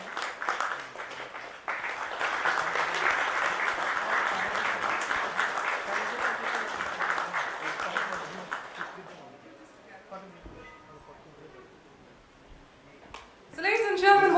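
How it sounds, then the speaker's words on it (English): Conference audience breaking into sustained applause at a procurement summit panel, loud and dense for several seconds before thinning out, with a voice rising over it at the end. "Let's give him a huge round of applause"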